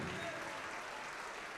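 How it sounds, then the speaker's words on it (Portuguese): Church congregation applause, a steady dense wash of clapping from many people, fairly distant and even throughout. "Vamos aplaudir mais ao nome de Jesus."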